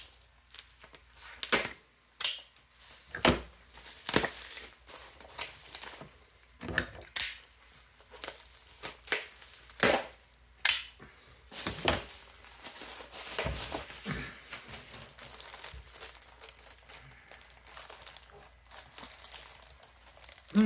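Packaging for a model train skeleton log car set is cut open, producing a series of sharp crinkles, snips and plastic or cardboard rustles in irregular bursts, fairly close and quiet, with no talk.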